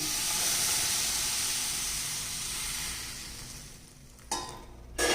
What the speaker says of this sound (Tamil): இப்போ இந்த தண்ணி எடுத்து இதில் ஊற்றிக்கலாம்